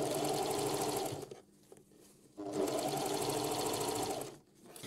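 A sewing machine runs in two bursts, stitching a seam with a fast, even mechanical chatter, pausing briefly in between and stopping again at the end.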